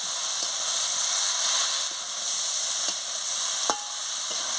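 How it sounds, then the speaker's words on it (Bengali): Jackfruit curry sizzles steadily as it is sautéed with sweetener and garam masala in a pan, a continuous close frying hiss broken by a few sharp spatula scrapes and stirs. "এবারে একটু মিষ্টি দিয়ে দিচ্ছি, একটু গরম মশলা দিয়ে দিচ্ছি, দিয়ে ভালো করে কষিয়ে নিচ্ছি"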